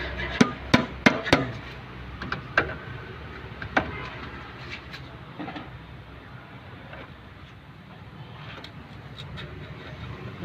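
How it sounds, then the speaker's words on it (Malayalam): Light plastic hammer taps on the valve cover of a Maruti Suzuki Wagon R, about a dozen sharp knocks clustered at first and then spaced out, close and fairly loud, fading into quiet workshop background. "അപ്പോൾ അതിനായിട്ട് നമുക്ക് ഉപയോഗിക്കാൻ പ്ലാസ്റ്റിക് ഹാമർ കൊണ്ട് ജസ്റ്റ് ഒന്ന് മുട്ടി"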